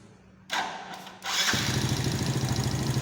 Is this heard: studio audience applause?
no